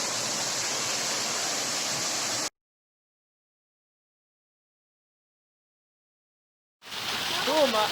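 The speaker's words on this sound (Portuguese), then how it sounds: "aqui nós podemos ver nessa cachoeira que é conhecida como a Cachoeira do Moreno" Steady, loud rushing of the Cachoeira do Moreno waterfall fills the opening seconds, then cuts to complete silence before the broad roar returns near the end.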